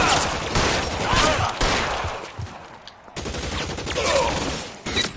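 Gunfire from the video game L.A. Noire, a dense fusillade of overlapping shots and bursts running throughout, loud and close, with a brief lull midway before the firing resumes.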